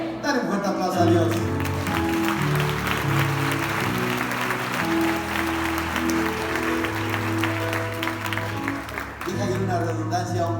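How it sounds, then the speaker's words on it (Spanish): Church congregation applause at a worship service, clapping spread under sustained musical tones and chords, with a voice heard over the mix. "Dale un fuerte aplauso a Dios"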